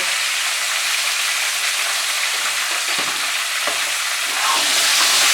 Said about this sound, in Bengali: মাঝারি আঁচে পটলগুলোকে ভালো করে কিন্তু ভেজে নিতে হবে।